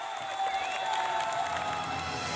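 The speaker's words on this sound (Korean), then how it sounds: "곳곳에서 터져나오는 열띤 함성" A crowd roars and cheers steadily at a tank biathlon, with shouts rising over a continuous wash of distant noise.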